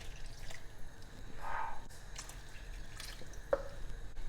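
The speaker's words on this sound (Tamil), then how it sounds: "குழம்புக்கு தேவையான அளவு தண்ணி ஊற்றிக்கலாம்." Water splashes into a pot of idli kulambu: faint, quiet splashes and drips come in two short bursts, with no voices.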